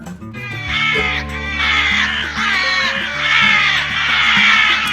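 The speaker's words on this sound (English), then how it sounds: "There are so many crows." Crows cawing in a cartoon farming video game for kids: a series of loud, close, harsh caws repeating in rising bursts over a light game music backdrop.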